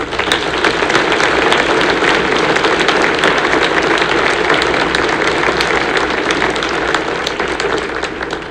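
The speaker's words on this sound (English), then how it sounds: "Let's give another round of applause to all those receiving awards." An audience claps at a high school band concert, with dense sustained applause from a crowd that stays loud and even throughout and fades slightly at the end.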